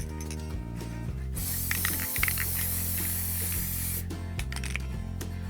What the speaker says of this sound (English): Apply a light coat of adhesive to the back of the stencil.